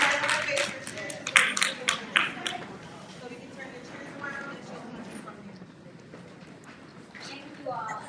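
An audience at a Black women's wellness gathering gives a short burst of scattered clapping that quickly thins out, followed by quiet murmuring and a voice speaking.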